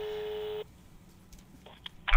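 Telephone dialing tones at the start of a phone call: a steady electronic tone for about half a second, then quiet line hiss with faint beeps before a brief burst near the end.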